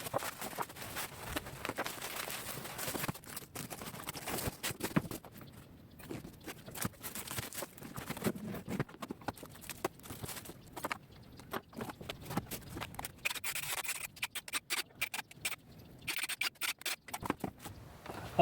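Cardboard box of a Powerhouse brushless impact drill being opened and handled: steady scratching, tearing and rustling of packaging with brief clicks and scrapes throughout, close and fairly quiet, no talking.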